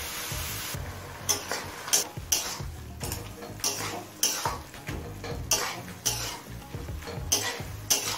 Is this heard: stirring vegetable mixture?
yes